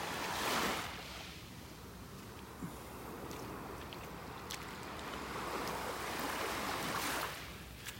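Ocean waves wash onto a beach in North Naples, Florida, on an outgoing tide, giving a soft, steady rush that swells near the start and again toward the end.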